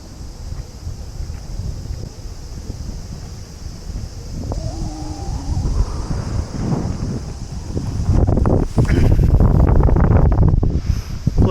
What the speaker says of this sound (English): Now I really wonder how the wind's gonna come through